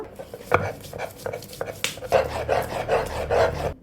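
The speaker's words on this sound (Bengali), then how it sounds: "এবার এই একই পাটাতে বেটে নিব কাঁচামরিচ, পেঁয়াজ আর কিছু রসুন।" Green chillies, onion and garlic being ground on a flat grinding stone: irregular scraping and knocking strokes of the stone roller, growing into a steadier rhythmic grind toward the end, close and fairly loud.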